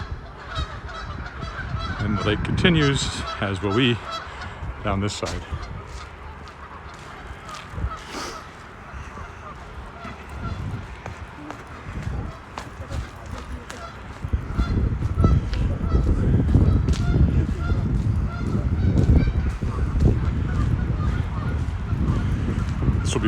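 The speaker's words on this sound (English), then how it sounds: "You can hear the geese." Canada geese honk repeatedly around Wascana Lake in Regina in early spring, loud nearby calls early on and scattered honks later, with someone talking and wind noise over the outdoor walk.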